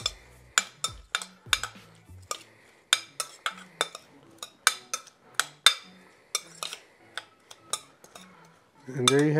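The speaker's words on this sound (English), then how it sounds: "And a pinch of salt. And mix this all up." Utensils clink and scrape against a bowl while pineapple salsa with salt and black pepper is mixed, in a quick irregular series of sharp clicks, ending in a brief burst of louder rustling.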